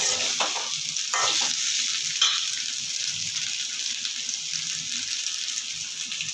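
Raw mango pieces sautéing in hot oil for mango pickle give a steady, loud, close sizzle throughout, with a few clicks of stirring near the start.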